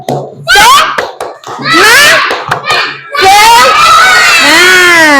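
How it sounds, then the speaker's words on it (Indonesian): Primary school children in a mathematics class doing a rhythmic clapping cheer, sharp close hand claps in quick groups mixed with loud shouted chanting voices of the class. "Tepuk semangat."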